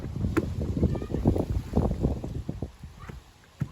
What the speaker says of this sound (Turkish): Bugün bir de rüzgar var.